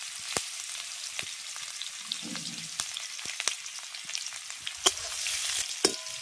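Chopped onion and green chilli with panch phoron fry in hot oil for a Bengali village dish, a soft continuous sizzle punctuated by sharp, irregular clicks and scrapes of a stirring utensil against the pan.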